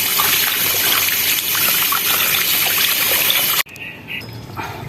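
Cut aloe vera being rinsed under running water, a loud continuous splashing flow that stops abruptly near the end, leaving faint handling noises.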